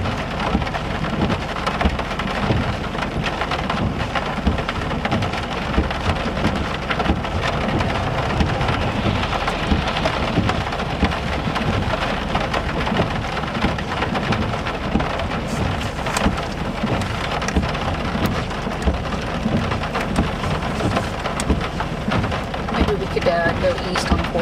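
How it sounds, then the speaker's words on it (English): Heavy rain pours during a severe thunderstorm in northern Oklahoma, a dense constant roar of drops drumming on surfaces with low rumbling thunder beneath, while people talk over it now and then. "but now the rain has started."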